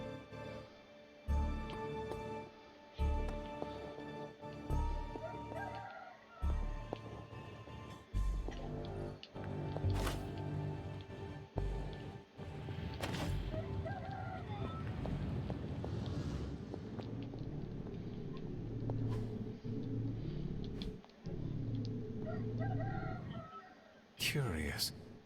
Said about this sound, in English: And that damned rooster outside.